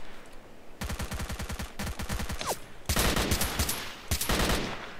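Rapid automatic gunfire from a rifle in S.T.A.L.K.E.R.: Call of Pripyat, fired in several sustained bursts of evenly spaced cracks, loud and close, with the last bursts heaviest and no talk over them.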